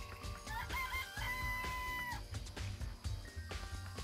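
Chickens clucking and a rooster crowing in a coop in the Danganronpa: Trigger Happy Havoc video game, their calls rising over steady game music and ambient noise throughout.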